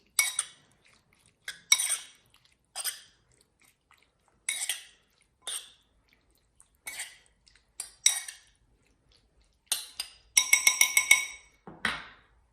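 A spoon scrapes and clinks against a pan as pasta is tossed with salsa verde, tomatoes, grilled peppers and anchovies. Bursts of metallic knocking come at irregular intervals, with a rapid run of clatter near the end and no talk.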